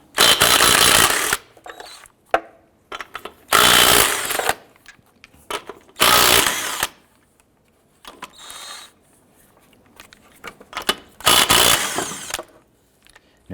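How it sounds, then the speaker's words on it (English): Impact wrench with a 19mm socket spinning lug nuts off a 2001-2005 Honda Civic wheel: four loud, close bursts of rattling power-tool noise, each about a second long, separated by quieter gaps with faint handling clatter. "Using a 19mm socket, go ahead and remove the lug nuts."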